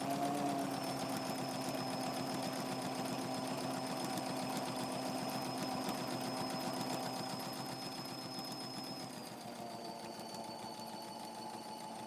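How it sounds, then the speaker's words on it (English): A sewing machine running steadily while stitching fabric for a handmade comfort doll, a close, even mechanical whir with a fast regular needle rhythm that eases slightly in pitch and level near the end, no voices. "I'm sewing right now"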